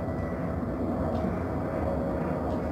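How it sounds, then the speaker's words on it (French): An airplane passing overhead, a dense continuous low roar that stays steady and loud throughout with no voices. "Écoutez l'avion."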